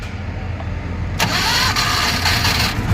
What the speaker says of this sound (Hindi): रुको मैं स्टार्ट कर लेता हूँ